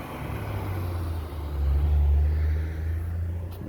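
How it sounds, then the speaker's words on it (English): A local privately owned bus in Barbados, running between Bridgetown and Bathsheba, rumbles past with a low engine drone that swells to a peak as it goes by, then fades, with no talk over it. "That's the local private bus."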